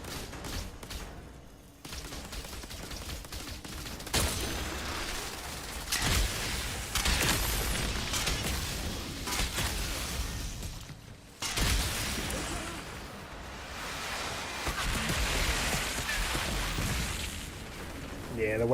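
Weapon fire and blasts from a launcher in the sci-fi shooter game Outriders, dense broadband bursts and rumbling explosions repeating over a sustained loud stretch, with gaps of near-quiet between volleys.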